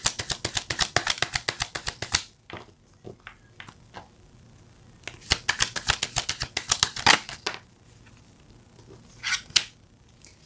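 Tarot cards riffle-shuffled close up in two long bursts of rapid crisp flutters, with scattered soft card taps and handling in the quiet pause between them.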